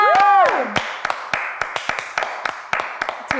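Several people clap in a loose, uneven rhythm of sharp close claps, after a brief sung or hummed tone at the start, with no talking.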